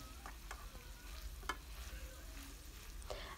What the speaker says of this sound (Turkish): Ve kıyma ile birlikte soğanı da kavuruyorum.